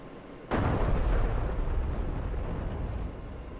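A Ka-50 attack helicopter in DCS World fires a round at a ground target, one sharp loud report followed by a long rumbling roar that slowly fades.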